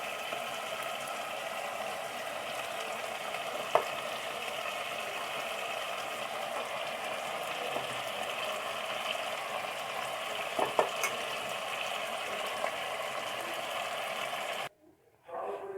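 Pasta boiling in a pot of water for egg pasta, a steady close bubbling hiss with a few faint clinks of stirring, running unbroken before cutting off abruptly near the end; no one speaks.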